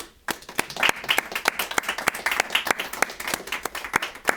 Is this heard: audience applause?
yes